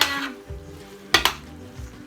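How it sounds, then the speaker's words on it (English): A pot of homemade sugar-free chutney with courgettes and pepper bubbling on the stove, soft simmering under a few sharp clinks of a utensil against the pot, with no talk. "Now the pepper is softening up as well. It's boiling nice, boiling down nicely"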